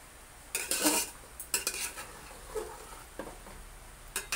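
A utensil scrapes and knocks in short, separate bursts as chicken and fried potatoes are stirred in a pot, fairly quiet, with soft background noise between the strokes.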